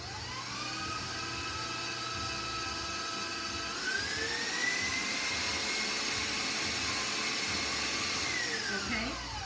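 An electric mixer runs continuously as it blends tea cake batter with almond extract. The motor whines steadily, close and fairly loud, and its pitch rises and falls slightly as the beaters move through the mix.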